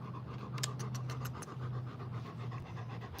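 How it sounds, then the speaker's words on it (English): A heavy female dog pants steadily outdoors on a hot, cloudy day, quick rhythmic breaths close to the mic with a low hum running under them. "My fat dog, the big fat girl."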